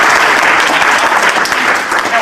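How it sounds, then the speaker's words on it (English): A martial arts class claps loudly for a student after he performs a technique, with dense sustained applause throughout. "Let's give him a round of applause."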